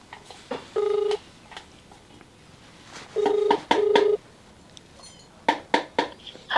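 Keypad tones of a telephone number being dialed, several steady beeps in short groups, loud and close, with faint clatter between them.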